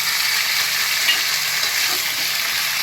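Potatoes frying in a pan with green chili and ginger paste just added, a steady broad sizzle and hiss throughout with faint stirring scrapes, close and continuous, no voices.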